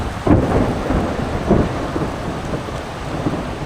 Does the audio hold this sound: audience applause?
no